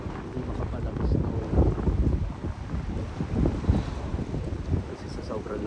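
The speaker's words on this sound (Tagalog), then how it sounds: "kasi sa sobrang lakas ng hangin." Strong blizzard wind buffeting a car from outside, a loud continuous roaring rumble with gusty swells heard from inside the vehicle.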